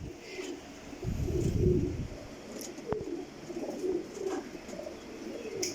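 Pakistani Taddy pigeons cooing up close, several low throaty coos in bursts over a quiet background, with a sharp tap partway through.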